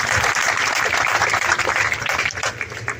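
A crowd claps loudly and continuously for a few seconds at a retirement felicitation, a dense crackling burst that eases slightly toward the end.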